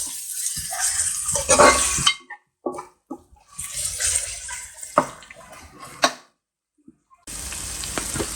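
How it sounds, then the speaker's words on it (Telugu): Ginger garlic paste and onions frying in oil for a village-style farm chicken curry, a steady close sizzle broken by bursts of stirring scrapes, with short pauses where the pan goes quiet. "ఈ అల్లం వెల్లుల్లి పేస్ట్ పచ్చివాసన పోయేదాకా వేగనివ్వాలన్నమాట."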